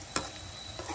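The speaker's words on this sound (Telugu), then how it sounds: "15 మినిట్స్ ఆనియన్నే ఫ్రై చేస్తూ ఉంది" Onions frying in a pan for biryani, a faint sizzle under a quick scrape of stirring, one short sharp clink near the start, brief and close.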